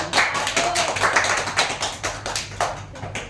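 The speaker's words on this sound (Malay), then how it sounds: "Berikan tepukan" A classroom of students claps for a peer group after its food-design presentation, with a moderate, uneven patter of hands and no talk over it.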